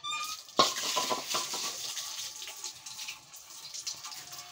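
Bay leaves being rinsed in water, with a sharp clink of a bowl or utensil at the start followed by a steady splashing and trickling of water, close by and with no talk.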